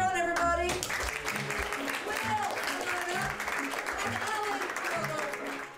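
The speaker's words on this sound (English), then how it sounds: "Mara, come on up, cheer on everybody." A studio audience at a Jeopardy game applauds steadily, dense clapping close and continuous for several seconds, with a host's voice briefly heard at the start.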